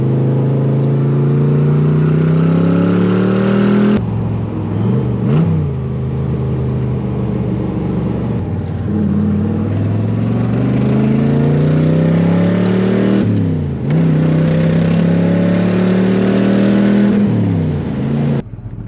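A Corvette engine drones while driving down the road, loud and close, rising in pitch through each gear as it accelerates, with brief dips at the shifts and steady road noise underneath.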